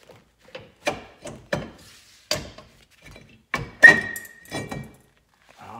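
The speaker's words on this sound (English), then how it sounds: "now it is time to pull the rotor off" Brake rotor being worked off the hub of a Corvette, a series of separate knocks, thunks and ratcheting mechanical clunks at close range with short pauses between, plus a brief metallic ring near the end.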